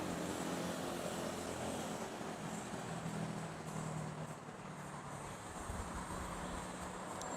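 A Cebu Pacific airliner in 25th-anniversary livery lands at Manila's NAIA airport on runway 06, heard as a distant, steady broadband jet rumble and roar that holds for several seconds, fairly faint and without speech.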